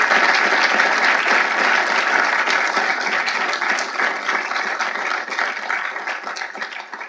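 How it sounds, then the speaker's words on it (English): An audience at a political speaking event breaks into sustained, loud applause that slowly thins out toward the end, with no voices over it. "I want to take a moment to applaud and congratulate Kay Cole James"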